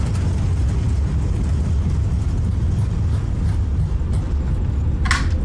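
An airliner in Microsoft Flight Simulator 2020 roars with thrust reversers on landing, a continuous heavy low rumble with broadband hiss, steady and loud, plus a brief sharper burst near the end.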